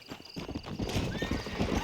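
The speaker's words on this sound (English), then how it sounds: "My horse." A horse in the video game Red Dead Redemption whinnies while its hooves clip-clop steadily, the sounds close and fairly loud over a busy game background.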